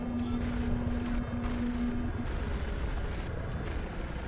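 A motorboat engine in the video game Battlefield 4 drones as a steady mid-level rumble with a brief tonal whine early on, heard alone without talk.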